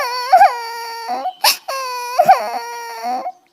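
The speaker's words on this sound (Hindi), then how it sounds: "उसके कानों में बच्चे के रोने की आवाजें आ रही थी" A young child wails and sobs in two long crying bursts with a sharp sniffling breath between them, close and loud.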